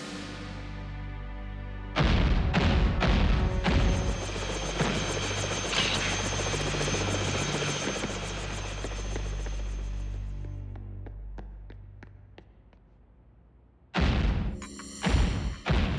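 Cartoon rescue helicopter rotors roar in loud and close after a brief silence, a dense steady thrumming that slowly fades out, with a second short burst of rotor noise near the end.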